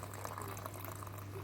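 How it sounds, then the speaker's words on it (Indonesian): Water boils at a faint, steady level, a soft continuous bubbling and hiss with a low hum beneath and no talking. "Ini air mendidih guys ini guys."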